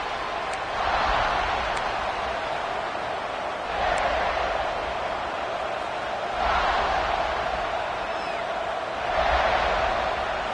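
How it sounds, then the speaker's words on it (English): A college football stadium crowd keeps up a dense, steady roar and buzz after a score, swelling in several broad waves of cheering, heard from a distance with no clear talking. "this crowd is buzzing after that last score"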